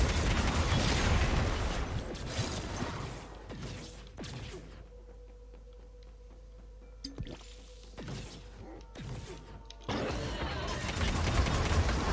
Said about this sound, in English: look at the chain explosions